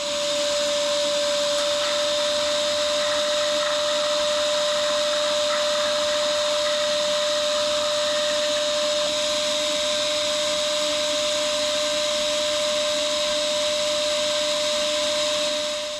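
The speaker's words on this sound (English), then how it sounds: "So I've got this little piece of tubing on a shop vac, and we're going to try to suck that oil out" A shop vac with a small piece of tubing sucks old oil from the cylinders of a 1936 Allis-Chalmers WC barn-find tractor engine, a loud, constant whining roar with a steady tone that holds unbroken throughout.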